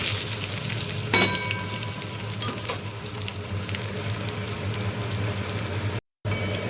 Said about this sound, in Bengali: এবার আমি এটা একটু কষিয়ে নেব আলুটা